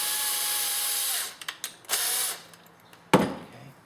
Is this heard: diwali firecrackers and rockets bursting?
no